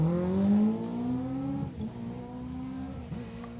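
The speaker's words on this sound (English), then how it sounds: "as you see Rob Morris in the Citroen" Citroen rally car racing on a tarmac stage at the Tour of Epynt, its engine note climbing loudly and steadily before dipping and rising again through gear changes, close and continuous with no talk.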